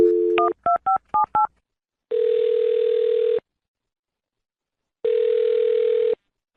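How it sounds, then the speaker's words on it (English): A telephone number is punched in as a quick series of short DTMF key beeps, followed by two long ringback tones separated by silence, clear and close with no talking. "dial this phone number right now and see if we can get him on the phone"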